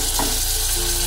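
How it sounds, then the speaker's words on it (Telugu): Whole spices tempering in hot oil for a Telugu tomato rasam, giving a close, steady sizzle and crackle that runs unbroken through the moment with no voices. "ఆయిల్ హీటెక్కిన తర్వాత పోపు సామాన్లు వేసుకుందాం. ఇవి లైట్గా ఫ్రై చేసుకుందాం."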